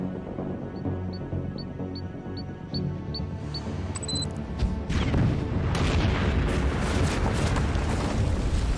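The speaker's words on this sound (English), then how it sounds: "Blow it up, sky high." A loud explosion in Werewolf: The Apocalypse - Earthblood rises at about five seconds into a sustained broadband rumble that roars on to the end, after quiet game ambience with a few faint chimes.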